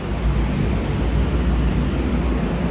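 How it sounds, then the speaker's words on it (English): A loud, steady mechanical drone with deep low rumble and broadband hiss, continuous throughout with no breaks, from a water tank and water pump running close by in a rooftop office. "The loud sound that you are hearing comes from the water tank and the water pump."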